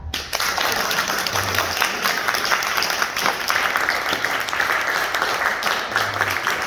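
An audience claps at a Rowlett city council meeting, a sustained round of mixed hand claps from a modest crowd in a room, steady and fairly even from start to end.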